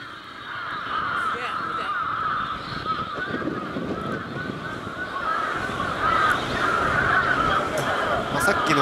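Birds call over and over in Japan, a steady chorus of harsh cawing cries layered with constant outdoor background noise, with voices talking throughout.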